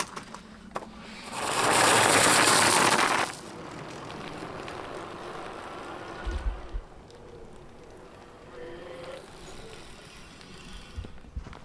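Riding a Kakuka K16 folding e-bike with 16-inch wheels gives a loud gust of wind noise for about two seconds. Quieter rolling and rattle follow, with a few soft thumps near the end.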